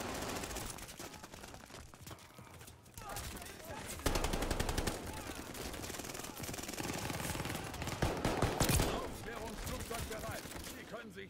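Sustained gunfire in Call of Duty: Vanguard, rapid repeated shots running almost without pause, loud and close, with sharper bursts in the latter half and a voice speaking over the shooting.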